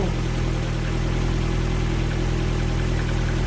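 A Mini Cooper engine idles with a steady, low, close throb and constant vibration, with no voices heard.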